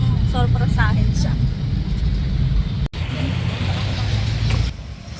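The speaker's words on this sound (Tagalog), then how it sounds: "So ito guys, nandito na po kami sa jeep." Steady engine drone and road rumble from inside a moving jeepney, continuous and fairly loud, with a person speaking early on and a brief dropout midway.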